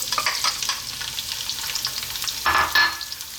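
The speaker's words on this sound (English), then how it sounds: "Simply we're going to drop in our onion." Onion dropped into hot oil for Arab green beans, a close, bright crackling sizzle that flares up as more pieces land.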